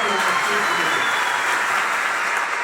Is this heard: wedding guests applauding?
yes